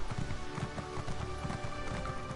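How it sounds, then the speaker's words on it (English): Horse hooves clip-clop in a steady rhythm under a dense wash of other sound. "One day I shall own a horse, and his name shall be Speed after this one."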